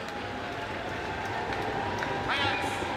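Audience applause for Git Hayetsk dancers at the Hobiyee Ts'amiks 2024 celebration in Vancouver, BC, a steady dense wash of clapping from a crowd, with voices mixed in and a brief swell near the end.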